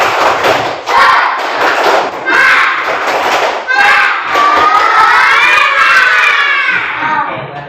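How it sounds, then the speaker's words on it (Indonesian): Schoolchildren in a classroom shouting a rhythmic 'tepuk semangat' clapping chant in unison, loud and close, with bursts of voices and claps in quick patterned phrases, ending in a rising collective cheer. "Bapak mau ngajak kalian tepuk semangat dulu"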